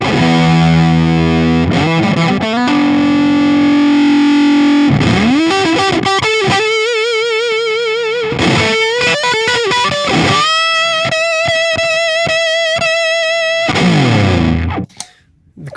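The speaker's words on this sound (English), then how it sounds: "The thing I love about the Big Muff pedal is the sustain. Distortion with crazy sustain." Electric guitar through a Big Muff distortion pedal, thick fuzzy notes and bends held with long sustain, sliding between pitches and ringing loud and close before cutting to silence at the end.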